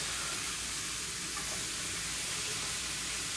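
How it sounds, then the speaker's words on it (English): Steak grilling and potatoes sautéing with garlic give off a steady, dense sizzle that fills the whole stretch at an even, fairly loud level, with no talking over it. "potatoes sauteing, steak grilling, garlic"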